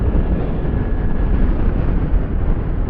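Strong wind buffets the microphone on a night motorbike ride along a rural road, a continuous low, heavy rumble with gusty fluctuations and no clear speech over it.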